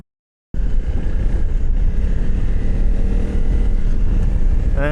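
A Honda CRF300L Rally motorcycle is ridden with its single-cylinder engine droning loud and close over heavy wind rumble. The sound kicks in suddenly after a brief silence and holds steady throughout.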